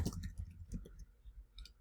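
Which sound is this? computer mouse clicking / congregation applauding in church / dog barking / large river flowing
computer mouse clicking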